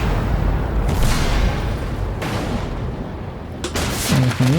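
Tank cannon fire in a tank battle game: a few heavy booming shots spaced seconds apart over a constant loud engine rumble, with a brief voice near the end.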